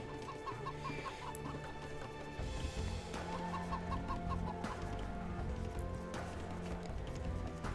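Chickens cluck in the video game Age of Empires, with several short, repeated clucks at a steady moderate level over a continuous game soundscape and no talking.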